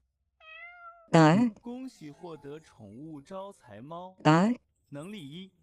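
A video game cat meows several times in quick succession, close and clear, with rising and falling wavering calls separated by short pauses.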